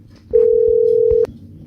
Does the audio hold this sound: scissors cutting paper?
no